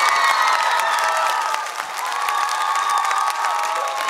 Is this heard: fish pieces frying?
no